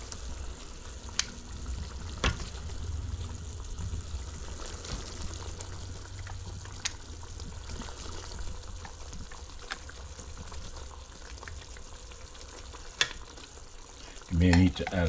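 Oxtails frying in a pot with a constant low sizzle, broken by occasional sharp scrapes and clicks of stirring and a brief louder rattle at the end.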